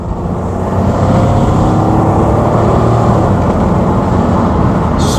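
A 1980s car with an automatic gearbox kicks down from around 30 mph, its engine note rising into a loud, sustained, steady roar heard close from inside the cabin.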